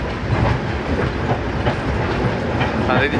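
Parahyangan executive class train between Bandung and Jakarta heard from inside the carriage, a loud steady rumble with rhythmic clickety-clack of wheels on rail joints.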